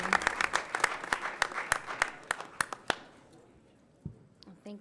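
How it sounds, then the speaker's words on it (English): Scattered applause at a school board of education meeting for athletes and coaches, sharp individual claps from a modest group that thin out and stop, followed by a quiet room with a faint voice. "Let's give another round of applause to all of our athletes and our coaches for their accomplishments for the fall season."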